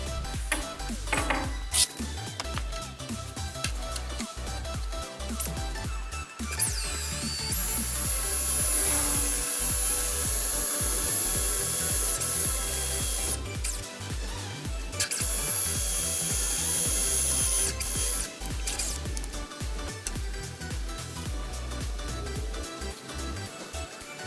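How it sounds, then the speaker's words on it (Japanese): A power drill drives M6 threaded insert nuts into a solid karin wood slab tabletop, whirring steadily for long stretches with brief pauses and handling noise in between. "天板の穴位置には M6 の鬼目ナットを取り付けます。"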